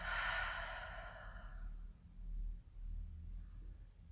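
Slow exhalation during a yoga breathing session, one long open-mouthed breath out that is loud at first and fades over about two seconds, followed by quiet low background.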